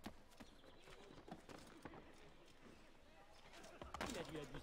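Horse hooves clip-clop in the video game Assassin's Creed 3, irregular thuds close by with a louder burst near the end, under a player talking.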